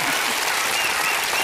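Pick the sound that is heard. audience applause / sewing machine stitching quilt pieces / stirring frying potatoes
audience applause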